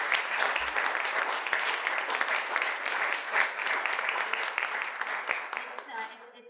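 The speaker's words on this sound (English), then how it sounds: "I just want a round of applause for all of you" Applause from a reception audience at Queen's Park, a dense, sustained clapping from many hands that continues for several seconds before trailing off.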